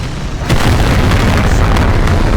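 A Jagdpanzer E-100 tank destroyer in World of Tanks fires a HEAT shell with a sudden, loud, deep boom that rumbles on heavily through the rest of the moment, with no talking.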